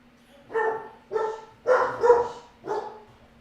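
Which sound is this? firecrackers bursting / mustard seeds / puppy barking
puppy barking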